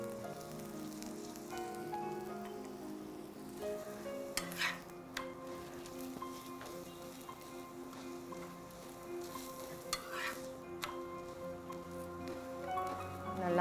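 Masala chapati cooking with oil on a hot griddle gives a steady, dense sizzle and crackle throughout, with a few brief scraping bursts from a spatula pressing the flatbread, and no one speaking.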